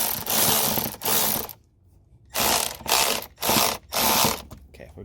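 Ratchet wrench cranking in bursts while tightening a part in the engine bay of a 2004 Mazda 6 V6, loud and close, four or five rapid clicking runs separated by short pauses.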